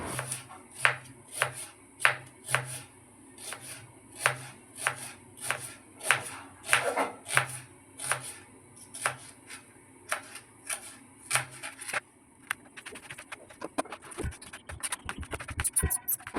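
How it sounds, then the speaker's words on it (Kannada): A knife cuts half an onion lengthwise on a cutting board, giving a long run of evenly spaced crisp taps that turn quicker and more jumbled toward the end. "ನಾನಿಲ್ಲಿ ಅರ್ಧ ಈರುಳ್ಳಿ ಮಾತ್ರ ಉದ್ದಕ್ಕೆ ಹೆಚ್ಕೊಳ್ತಾ ಇದ್ದೇನೆ"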